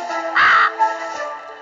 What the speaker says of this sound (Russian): только вот вредный попугай летает и нам мешает